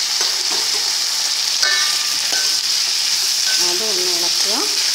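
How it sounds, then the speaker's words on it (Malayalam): Potatoes frying in a pan with onions, a loud continuous sizzle over occasional spatula scrapes and stirring clatter, close up, with faint background music. "പൊട്ടറ്റോ ആഡ് ചെയ്ത് കൊടുക്കാം. ഇതൊന്ന് ഇളക്കുക."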